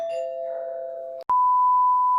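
A doorbell chimes indoors in two tones, a lower note held briefly, then a short break and a brighter, higher tone ringing on steadily; no voices.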